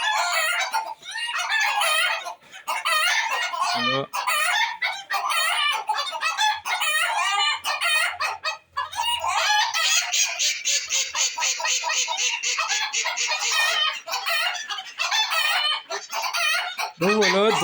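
Chickens in a breeding aviary, including silver Sebright bantams, cluck busily and a rooster crows loudly up close, with a near-constant dense chorus of hen calls; someone speaks briefly in French.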